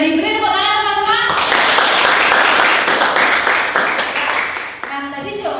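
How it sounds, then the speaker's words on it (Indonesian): Schoolchildren in a classroom clapping for a classmate's answer, a dense burst of applause between stretches of a teacher's voice, loud and close, fading near the end as talk resumes. "Beri tepuk tangan teman-teman."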